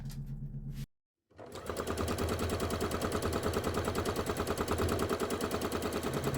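A sewing machine runs fast and steady, stitching free motion embroidery stars onto an appliqué bauble. A rapid, even run of stitches starts after a brief silence and continues up close.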